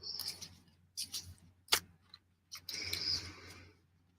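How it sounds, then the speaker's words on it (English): Celtic Tarot cards being shuffled by hand, heard as a few quiet, separate bursts of papery riffling and flicking. One sharp snap stands out near the middle, with soft room noise and no speech. "All right, let's shuffle."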